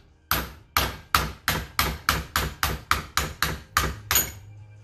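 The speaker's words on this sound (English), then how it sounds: "Should we give it a hit? Is that hammer big enough?" A hammer strikes a car part during a clutch replacement on a Nissan March: eleven loud, evenly spaced metallic blows ring out alone, close by, with a low hum lingering at the end.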